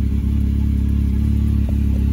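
A 2021 Can-Am Maverick X3 Turbo RR XMR idles with a steady low engine and exhaust drone, its tone shifting slightly as the drive mode switches to eco, close by with no talk.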